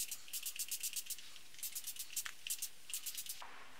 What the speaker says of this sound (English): I'm going to spray my hair to make sure that it's nice and juicy.